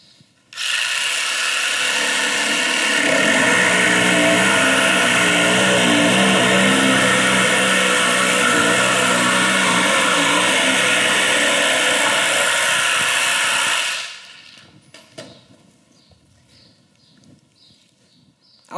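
A Festool Carvex PS 420 jigsaw cuts steadily through a workpiece with a loud, sustained buzzing roar for about thirteen seconds, then stops abruptly, followed by a few faint clicks and handling noises.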